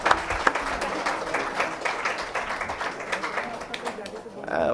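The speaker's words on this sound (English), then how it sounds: "A huge round of applause for them, friends." Audience at a plenary session of a sustainability education conference applauds, a steady wash of many hands clapping that holds evenly throughout.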